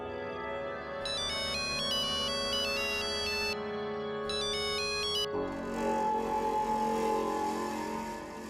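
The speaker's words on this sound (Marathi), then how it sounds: "कोणाचा फोन हा?" A phone ringtone plays loud and close as a bright repeating melodic pattern in two bursts, with a pause between them, then gives way to indoor background sound with no talk.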